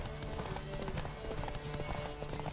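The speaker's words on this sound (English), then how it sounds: "Don't spare the horse!" Quick, steady hoofbeats of a galloping horse from the video game The Witcher 3 drum continuously under busy game ambience, fairly faint overall.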